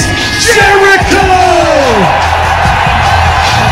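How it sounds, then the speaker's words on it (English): Wrestling arena crowd at a wrestler's WWE debut, a loud, dense wall of cheering and yelling with a voice bellowing over it, sustained the whole time. "Listen to that fucking crowd"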